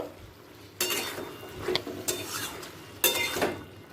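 Crushed ginger and chopped green chili are stirred in a pan of cooking pumpkin, several loud close spatula scrapes against the metal over a faint background sizzle.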